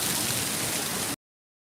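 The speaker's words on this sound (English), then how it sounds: "it is pouring down" Heavy rain pours down outdoors in a dense, steady hiss of drops hitting surfaces, close and constant before cutting off abruptly.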